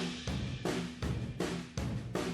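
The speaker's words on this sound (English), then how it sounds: "the last thing that I want to EQ on these drums is going to be this room mic channel" Drum kit picked up by a room microphone, soloed and summed to mono, with four roomy, ringing hits spaced about half a second apart and a full, washy decay between them.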